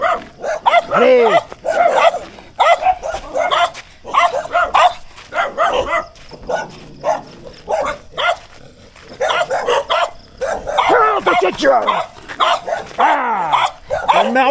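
Dogs bark, yip and growl near a runner on a long-distance race route in the countryside, with frequent close barks over and between a man's continuous speech.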